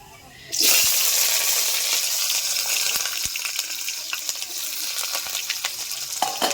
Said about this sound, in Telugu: ఆవాలు వేగినాయి మన రెడీ చేసి పెట్టుకునే ఎరగడలు కరివేపాకు వేసేది ఫస్ట్